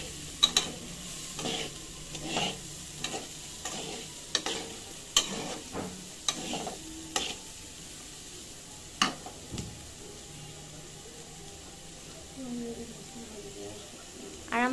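Food frying in a pan is stirred with a utensil: rhythmic scraping knocks every second or so over a soft, low sizzle, fading to quieter frying with a later stroke, while a voice talks at times.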